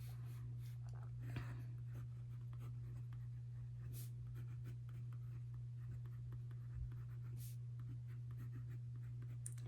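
A fine-nib Monteverde fountain pen writing on paper gives a faint, steady scratching with small irregular strokes over a constant low hum, close up, with no talking.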